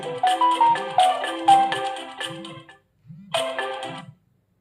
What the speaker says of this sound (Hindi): जैसे आप इस पर टैप करोगे आपके फोन में रिंग बजेगी